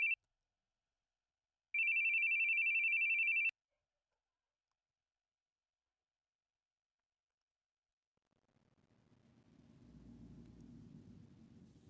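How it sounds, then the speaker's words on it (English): A telephone rings in The Boogie Man video game: two electronic trill bursts, one very short and one about two seconds long, fairly loud and alone, followed after silence by a low, faint ambient rumble. "But also that means he's hearing the ringing."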